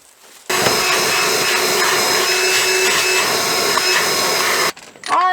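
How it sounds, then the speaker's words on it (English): Shop vacuum running steadily as it sucks debris from around the spark plugs on a 1979 Dodge D300 pickup left in the woods for over twenty years, a loud continuous whine that starts abruptly and cuts off near the end. "let me vac them out around them before I get all that down in the cylinder"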